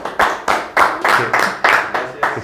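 During a football podcast interview, a few hands clap close to the microphone in an even rhythm of about eight sharp claps, each standing apart rather than blending into a crowd.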